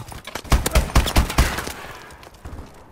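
Gunshots ring out in the Call of Duty Advanced Warfare video game: a cluster of sharp, loud shots close together, then trailing off into quieter scattered fire and background noise.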